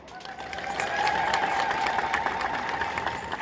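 Church congregation applauding together after a preacher's call, a steady wash of many hands clapping at moderate loudness with a faint crowd murmur underneath.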